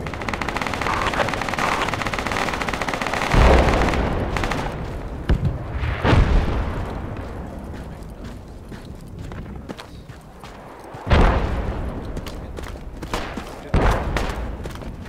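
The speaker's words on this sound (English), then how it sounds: "Enemy fire." Video game battle with enemy gunfire: sustained rapid shooting at first, then scattered sharp bursts and impacts at intervals amid background game noise.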